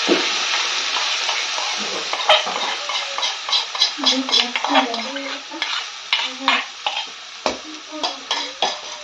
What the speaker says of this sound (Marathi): मसाला चांगला तेल सुटेल तर आपण परतून घेऊया